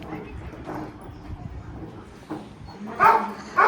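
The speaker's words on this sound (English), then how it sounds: "these are all sled dogs who are in training" Husky sled dogs in training near Skagway, Alaska, some harnessed up, give a few sharp barks and yips near the end over a busy outdoor murmur of voices.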